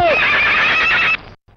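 A horse pulling a carriage gives a loud, close, drawn-out whinny as the carriage comes to a stop, followed by brief silence.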